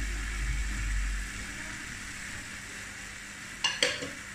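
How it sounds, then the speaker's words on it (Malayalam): A banana, sugar and coconut filling for sweet vattayappam cooking in a pan, a soft low sizzle throughout, then two quick metallic spoon scrapes near the end, with no voices. "ഇതും കൂടി ചേർത്തിട്ട് എല്ലാം കൂടി ചേർത്തൊന്ന് നന്നായിട്ടൊന്ന് ഇളക്കി യോജിപ്പിച്ചെടുക്കാം"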